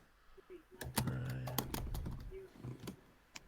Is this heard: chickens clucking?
no